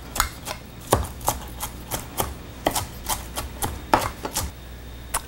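Knife chopping food on a cutting board during a Mediterranean meal cooking class, a series of sharp, close wooden taps in uneven bursts, some quick doubles, with no talking.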